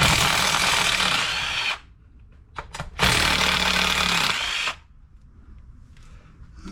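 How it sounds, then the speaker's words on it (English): A powered wrench works on a riding mower during a camshaft replacement, whirring loudly in two sustained bursts with a short stuttering spin-up between them, then dropping to quiet shop noise. "I'm about to use a wrench on that."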